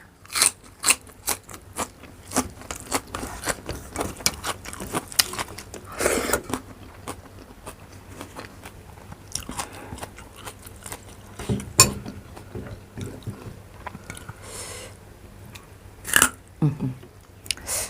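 Close crunchy chewing of crisp food with a Thai sour curry and chili dip, made up of rapid repeated bites and crunches throughout with brief pauses and a couple of louder crackles.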